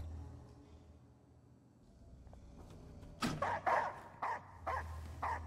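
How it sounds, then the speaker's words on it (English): A dog in the horror game Layers of Fear 2 barks several times in quick, loud bursts after a quiet, rumbling stretch, with no talk over it. "Dog, I'm out of here."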